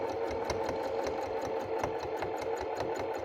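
A sewing machine doing free motion quilting runs steadily under foot-pedal control, its needle stitching in a fast, even mechanical rhythm, close and continuous with no talk.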